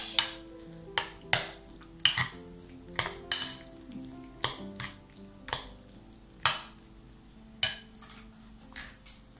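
Stuffing for small stuffed squash is mixed in a bowl, sharp utensil clinks and taps repeating at an uneven pace, close and clear with no talking.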